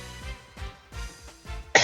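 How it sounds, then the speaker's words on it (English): A series of four or five dry coughs close to the microphone, followed by a short breathy exhale. "Sorry for the cough."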